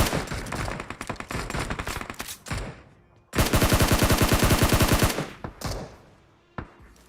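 Rapid bursts of automatic gunfire in PUBG Mobile, loud and close, with a long sustained volley in the middle and scattered shots around it.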